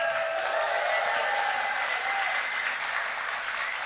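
Audience applause at a live Cyndi Lauper interview event, a dense, steady wash of many hands clapping that holds at full strength throughout, with no talk over it.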